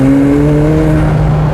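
McLaren 750S in sport mode with manual shifting, its engine pulling hard in fourth gear, a loud steady engine drone with rising harmonics heard close from inside the car, no talking.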